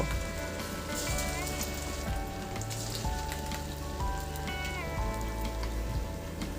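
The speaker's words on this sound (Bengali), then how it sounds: "একটা একটা করে আস্তে আস্তে করে তেলে আমরা দিয়ে লো মিডিয়াম ফ্লেমে এটাকে ছেঁকে নেব" Flattened rice fries in hot oil over a low-medium flame, giving a dense, steady crackling sizzle close by, with faint background tones and no talking.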